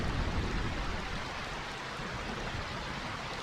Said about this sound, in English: I find this rain quite pleasant.